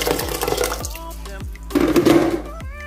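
Water runs into a cooking pot for Spanish-style lentil soup, a gurgling fill with a rising tone and a few soft knocks against the pot, close by and with no talking.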